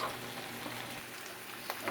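Sauce is stirred in a pot on the stove, a soft continuous bubbling sizzle with faint scraping movements underneath, close and quiet, with no talking.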